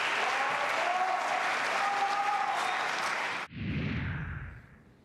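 An audience at a Republican presidential debate applauds loudly and steadily for several seconds, then the clapping cuts off abruptly and a fainter burst of applause fades out.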